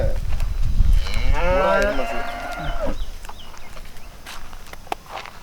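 Native breed cattle on a farm give one loud, drawn-out moo close by, with hoof steps and farm noise around it and someone speaking nearby.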